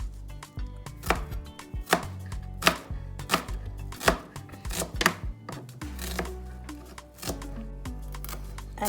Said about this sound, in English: I'm gonna go in and chop my onions